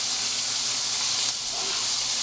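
Steady, dense hiss of bacon frying in a pan, a continuous crackling sizzle with no pauses, close and fairly loud.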